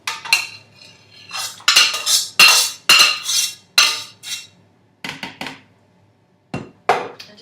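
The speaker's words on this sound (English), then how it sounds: "I just need to scrape out the rest of the onion that's at the bottom of the pan" A metal utensil scrapes and clanks against the bottom of a pan in repeated short strokes, scraping out onion for pumpkin soup, close and fairly loud, with brief pauses between bursts.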